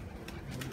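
A pigeon in a dovecote gives a brief, faint coo against quiet background noise.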